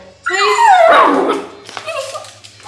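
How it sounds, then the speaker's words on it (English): A small dog barks and whines loudly in a drawn-out, high-pitched outburst, followed by softer whimpering yips. "There's so much noise in such a little dog."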